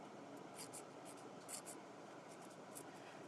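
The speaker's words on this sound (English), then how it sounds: "I draw right on that painter's tape" A marker or pencil draws on painter's tape in a series of short, faint scratching strokes, close and quiet, with no talking.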